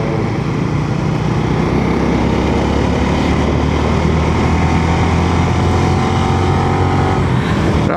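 A motorbike rides through Kuala Lumpur at night, its engine and wind noise forming a loud, continuous drone that holds steady throughout with no voices heard.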